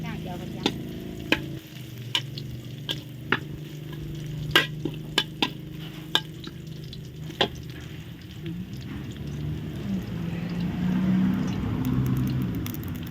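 Garlic sizzles in a hot pan while cooking Thai pork belly palo. A steady, crackling fry runs throughout, with sharp metallic clinks of a utensil striking the pan at irregular intervals.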